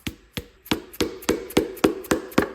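Pistons being hammered out of a 1977 Jeep CJ7 V8 engine block ring with about nine sharp, evenly spaced metallic blows, loud and close, with no talking.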